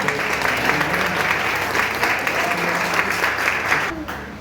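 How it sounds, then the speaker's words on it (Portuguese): A church congregation applauds steadily throughout, a dense, continuous wash of clapping that fills the room without pause or voices. "Você pode aplaudir a Jesus por isso?"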